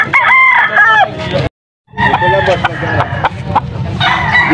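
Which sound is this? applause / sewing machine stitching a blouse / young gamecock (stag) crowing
young gamecock (stag) crowing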